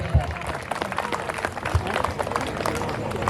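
An audience at a comedy mimicry show claps, a short burst of scattered, moderately loud applause with crowd noise.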